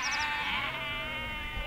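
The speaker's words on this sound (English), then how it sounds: "local sheep farmer Andrew Barr bring the ewes off the hill into the lambing barns" A ewe bleats on a hill farm in early March, a single drawn-out wavering call, fairly close and clear against a quiet background.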